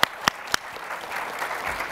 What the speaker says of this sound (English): Can we have a quick round of applause for our panelists?